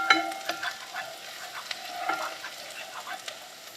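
Lady finger (okra) frying in a pan for a vegetarian dish, with a close, continuous sizzle broken by scattered crackles and pops and the occasional stir.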